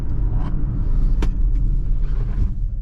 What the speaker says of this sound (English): we are going to do an emergency stop in 3, 2, 1